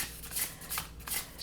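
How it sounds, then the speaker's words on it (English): A tarot card deck shuffled by hand nearby, giving a few quick riffling bursts of crisp card flutter with short pauses between them, fairly quiet and with no voice. "I don't know what made me just want to shuffle this deck"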